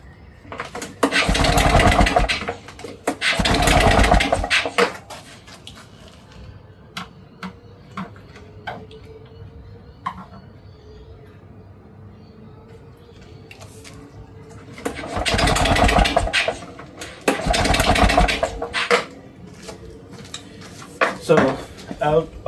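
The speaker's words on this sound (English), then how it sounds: "let's put in start and see if we could start this one" Two bursts of a Victa Clubsman two-stroke lawn mower being pull-started, each a loud rasping surge lasting a couple of seconds, separated by quieter tapping and handling noise; the engine does not keep running.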